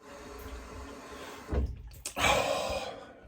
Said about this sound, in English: I'm going to rinse my face